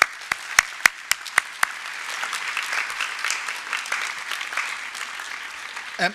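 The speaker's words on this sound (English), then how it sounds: "So I'd ask you to give them a round of applause." Applause from an audience at a school Year 6 and Year 9 promotion ceremony, opening with a few sharp isolated claps before swelling into steady, dense clapping from a crowd, then ending with a brief voice.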